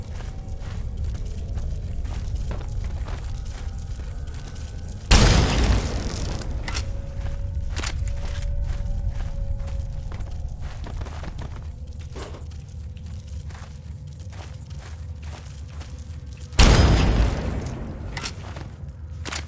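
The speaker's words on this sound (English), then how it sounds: "There's just a sound of ragdolls just constantly falling right now." Fallout 3 gameplay with low rumbling thuds and muffled impacts from ragdoll bodies falling, plus two heavy booming hits several seconds apart over a steady droning background.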